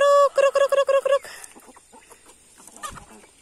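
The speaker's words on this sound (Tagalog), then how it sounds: "Mga manok." Backyard chickens in a small farm setting give a quick run of loud, stacked clucks and squawks in the opening second, then scattered softer clucks and rustling at feeding time.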